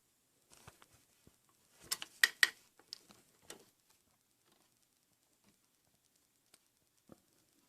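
A ratchet turns out the 10mm bolt holding a car's cam position sensor, giving a short cluster of quick metallic clicks followed by a few faint scattered ticks, close and quiet, with no speech.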